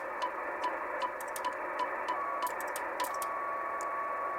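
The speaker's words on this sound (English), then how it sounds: "You can hear the antenna tuner ratcheting there." The antenna tuner of an Icom IC-738 ham radio, under repair after shipping damage, ratchets in a run of quick, uneven clicks over a steady radio hiss with a faint whistling tone.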